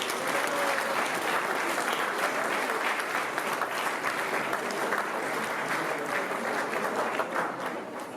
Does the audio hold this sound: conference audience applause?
yes